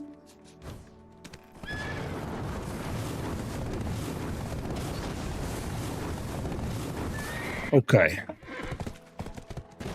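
Horses in a video game whinny and neigh over a steady clip-clop of hooves, with a loud sharp whinny near the end and a voice speaking briefly.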